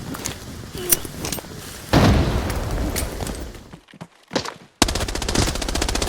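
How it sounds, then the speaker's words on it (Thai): Gunfire in the shooter game Arena Breakout Infinite comes in loud, close bursts of rapid automatic fire with sharp single shots. After a brief near-silent gap, a dense stream of rapid fire follows. "คนยิงผม"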